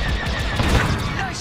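Rapid starfighter blaster fire from a Star Wars: Squadrons space battle, a dense, continuous barrage of bursts and booms alongside voices.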